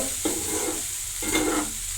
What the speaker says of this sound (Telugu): అందుకు అన్నం ఇలా పోపు వేసుకుంటారు